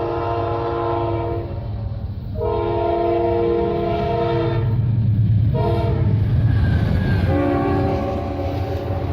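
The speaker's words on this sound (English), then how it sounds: "went up to Junction City to catch the Amtrak heading south" A southbound Amtrak passenger train sounds its horn in repeated long blasts, loud and fairly close, over a steady rumble of wheels and rail clatter.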